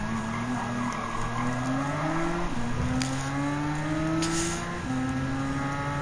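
Peugeot 2008 Allure SUV racing in Gran Turismo 7, a loud steady engine drone rising in pitch through each gear and dropping at two shifts, with faint tire squeal.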